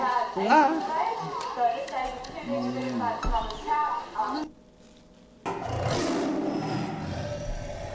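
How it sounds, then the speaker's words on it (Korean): Tiger roars played for an animal-sound guessing game, a deep growling roar rising over a child's and adults' chatter, then a brief silent gap before a second rough, noisy roar swells. "이건 호랑이다."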